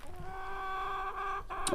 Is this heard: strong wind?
no